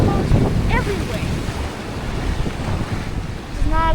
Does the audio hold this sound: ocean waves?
yes